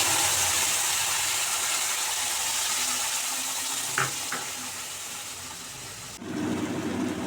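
A paste of garlic, onion, tomato and green chilli fries in a pan for a potato curry, giving a continuous close sizzle with a couple of brief scraping stirs, then the frying tone shifts and deepens near the end.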